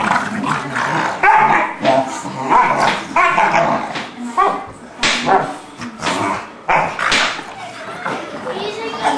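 An English Bulldog and an English Mastiff pup play together, giving continuous close barks, yips, growls and whimpers in busy, overlapping bursts.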